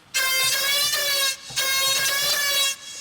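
A bright synth lead with an OTT-compressed, Saturn-saturated tone plays in a jersey club beat, sounding two sustained, richly harmonic phrases with a short gap between them, loud and alone.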